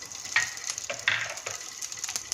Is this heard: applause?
no